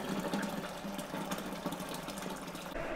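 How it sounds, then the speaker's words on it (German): A steady background hiss and low rumble of an electric kettle heating water for home canning, continuous and moderately loud throughout with no talking. "Aber ihr hört ja schon den Wasserkocher da im Hintergrund."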